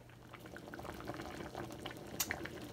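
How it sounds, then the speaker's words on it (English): Seasoned water for pho bubbles and boils in a pot, a faint, continuous crackling fizz of small pops with a few brighter splashy bursts near the end. "Here, bubbling and the boiling."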